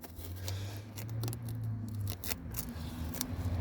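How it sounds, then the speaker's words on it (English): Masking tape being peeled off a vehicle's interior kick plate after a cleaning test, giving continuous close ripping and tearing sounds over a low steady hum, with a few sharper snaps along the way. "Now the product's dry, I'm just going to remove the tape."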